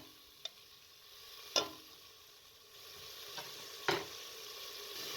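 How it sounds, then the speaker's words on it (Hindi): Soaked lentils (daal mash) frying in oil in a pot for a dhaba-style achari daal, with a faint steady sizzle and a few sharp clinks of a spoon stirring against the pan, no talk. "दाल शामिल करके भी आपने 5 से 7 मिनट तक अच्छे तरीके से इसको भून लेना है।"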